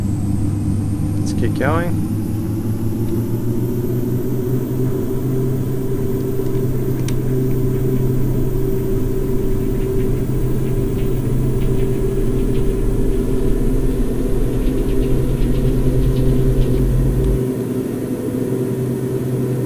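Steady, loud drone of propeller aircraft engines at full power in the X-Plane flight simulator, a continuous low rumble with sustained tonal hum throughout, with a person talking over it briefly.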